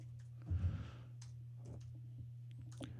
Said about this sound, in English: So you can just type in cello,